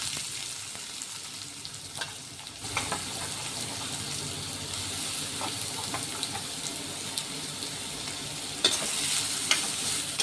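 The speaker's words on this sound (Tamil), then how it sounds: "நல்லா வெங்காயம் நல்லா செவக்க வதங்கட்டும்" Onions sizzle steadily in hot oil in a pan, with occasional scraping stirs, heard up close, while cooking a prawn gravy.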